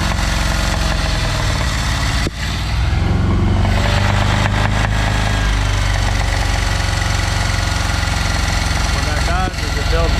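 The engine of a 1974 Dodge W200 truck with a 318 V8 runs loudly and steadily while water is poured into the carburetor, with a brief dip in the roar partway through and up close.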